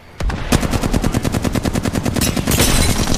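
Rapid automatic gunfire from the Apex Legends video game, a loud dense burst of evenly spaced shots lasting about three seconds with no talk over it.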